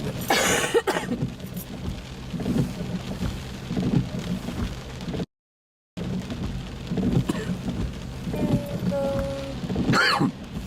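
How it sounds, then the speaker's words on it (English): Rain drums on a car during a driving lesson, a steady close patter and hiss on the roof and glass with occasional louder bursts and a short gap of silence midway, no talking. "The rain makes it difficult to hear what's going on as well, doesn't it?"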